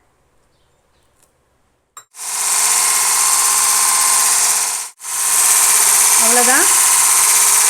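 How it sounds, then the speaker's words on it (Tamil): An electric hand beater whips cake batter with milk for a plain cake. A brief quiet stretch precedes a loud, steady motor whine that cuts out for a moment, then resumes. A voice speaks briefly over the noise. "இப்போ இதை நல்லா நான் பீட் பண்ணிக்கிறேன்."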